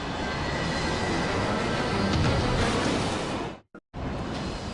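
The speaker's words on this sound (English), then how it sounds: "The plane is airborne, but not out of trouble." Loud, steady roar of a passenger jet airliner in flight just after takeoff, a Yak-42 of Yak Service Flight 9633, a broadband rushing drone that holds nearly five seconds before cutting out abruptly in two brief dropouts.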